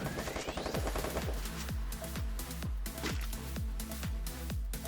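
Rapid automatic gunfire in the Free Fire battle royale game, a steady stream of loud, closely spaced shots with sharp repeated bursts and no talking.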